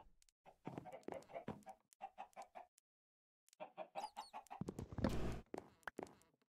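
Minecraft chickens clucking in short, repeated bursts, several clucks in a row, a brief pause, then more clucking building to a louder cluster near the end; no one talks.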